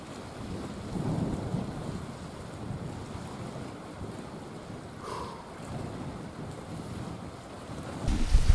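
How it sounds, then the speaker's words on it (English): Strong wind of around 20 miles an hour blowing by a big lake during spring carp fishing, a loud continuous roar with gusty rumble and microphone buffeting throughout. "the wind's blowing at like 20 miles an hour"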